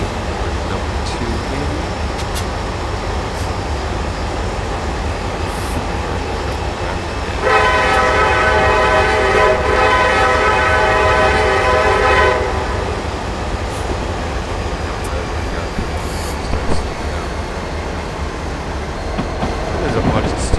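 CSX SD70AC diesel locomotive in the RailWorks train simulator, its steady engine drone and rail noise running throughout, with a loud sustained horn blast in the middle lasting about five seconds.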